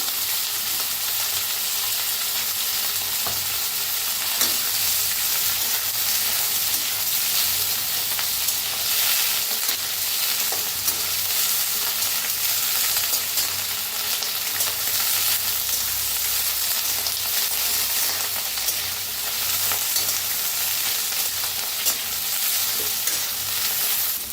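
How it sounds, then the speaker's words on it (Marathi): Oil sizzles and crackles steadily as cauliflower fries in a pan, a continuous hissing texture with occasional louder pops and stirring scrapes. "फुलगोबी भी भाजून घेऊया"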